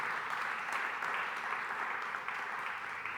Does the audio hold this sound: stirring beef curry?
no